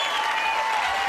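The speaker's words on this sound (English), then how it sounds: "It would be really complicated for me to stop the applause right now." A short burst of canned applause sound effect, a dense even wash of clapping crowd that runs loud and unbroken from start to end.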